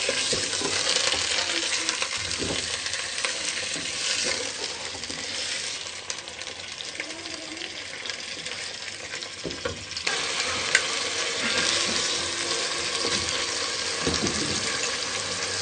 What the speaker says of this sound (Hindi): चिकन को हम फ्राई करेंगे।